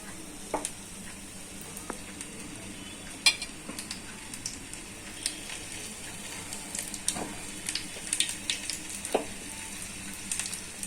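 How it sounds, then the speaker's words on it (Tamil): Plantain slices dipped in batter for bajji sizzle and crackle steadily in hot oil, with scattered sharp pops and light clinks over a constant frying hiss, and no talking. "வாழைக்காவை எடுத்து இப்படி டிப் பண்ணிட்டு மாதிரி போடணும்."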